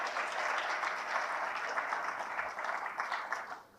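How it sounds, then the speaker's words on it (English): A conference audience at an India G20 event applauds the task force members, a steady wash of clapping that holds even and then fades away at the close. "please give them a round of applause as well"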